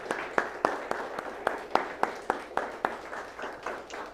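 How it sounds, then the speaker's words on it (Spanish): A church congregation claps in steady rhythmic unison during a worship service, sharp regular beats about every quarter second, fairly faint and sparse, as if from a small gathering. "aplauso al Señor."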